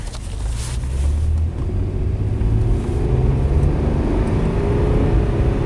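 The engine of an overheating Nissan Maxima is held at high revs in first gear. It gives a loud, continuous rumbling drone with a slight rising pitch and no speech over it.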